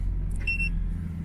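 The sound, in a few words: tire pressure alarm beeping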